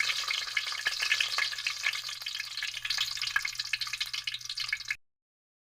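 Ginger and garlic frying in hot oil, a close, busy sizzle with crackling pops and spits that runs steadily for about five seconds before cutting off abruptly into silence.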